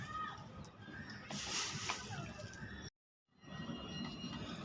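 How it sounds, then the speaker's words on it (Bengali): Water sloshes and splashes as it is poured onto a newly planted tree during a New Year tree-planting at home. The pour runs steadily, cuts out briefly, then resumes. "জল দাও জল দিলে আরও তরতাজা লাগছে"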